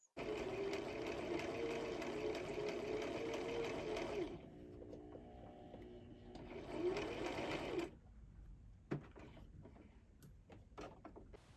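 A Singer sewing machine runs steady zigzag stitches through scrap fabric, a loud continuous whirring motor with rhythmic needle clatter that pauses briefly, resumes, then stops, leaving faint clicks and handling sounds.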